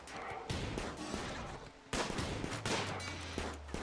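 Gunfire in the video game Rimworld, beta 18, during a cave fight: sharp shots and short rapid bursts crack repeatedly over a low rumbling bed, fairly quiet, with no talking.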